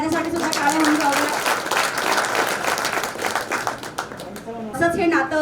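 An audience at a staff gathering claps steadily in warm sustained applause, while a voice talks over it near the start and again at the end.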